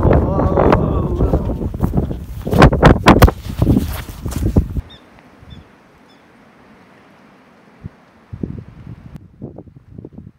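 Strong 25 to 30 mph gusts buffet the microphone in loud bursts for several seconds in Theodore Roosevelt National Park, then drop to a quiet lull before rumbling again.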